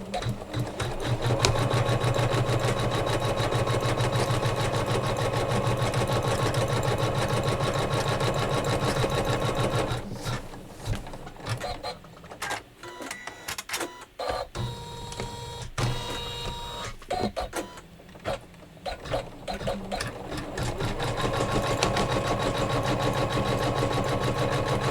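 A quilting sewing machine stitches a block on a Kimberbell pillow border, whirring in a fast, steady rhythm. Midway through, the run breaks into choppy starts and stops, then settles back into even stitching.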